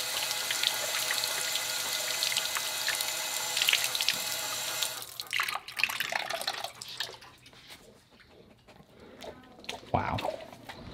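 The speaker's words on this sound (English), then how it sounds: "At least attempt to rinse it off." Water runs steadily from a tap as a found object is rinsed, a continuous close splashing stream for about five seconds. It then cuts off, leaving drips, faint handling noises and quieter rustling.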